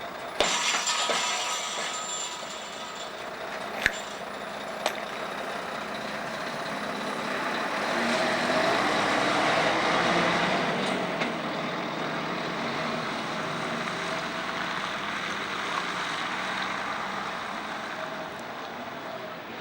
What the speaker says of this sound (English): The air and electrical Susies are then jettisoned prior to the truck driving off to tip